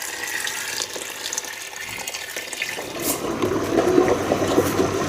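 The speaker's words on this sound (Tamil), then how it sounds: "வெறும் தண்ணியை விடுறத விட நாங்கள் அந்த மீன் வச்ச தண்ணியை விடுறது" Water from boiled fish is poured into a pot for Jaffna odiyal fish soup, a steady rushing splash that builds louder and fuller over a few seconds.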